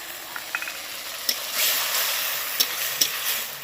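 Spices sautéing in a pan after a splash of water, a steady close hiss of sizzling with a few light clicks and scrapes of stirring, no voices.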